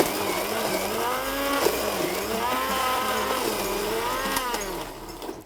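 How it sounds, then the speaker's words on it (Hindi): An electric blender whirs steadily while blending a butter chicken mixture with yogurt in a studio kitchen, a loud, continuous motor drone with shifting pitch that winds down at the end. "ये ब्लेंड कर दें आप। ठीक है, ये आ गया ब्लेंडर में।"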